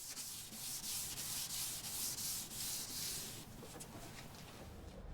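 Rough 400 grit pad sanding a 25-year-old headlight lens during restoration, rapid rhythmic back-and-forth scrubbing strokes close by, fairly quiet, easing to a softer rub near the end.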